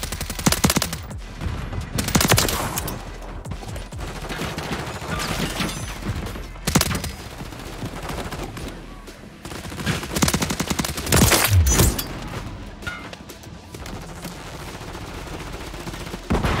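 Rifle fire from the shooter game Call of Duty Modern Warfare 3 (2023): repeated loud bursts and single shots close by, dense and rhythmic throughout, with mechanical clatter between volleys.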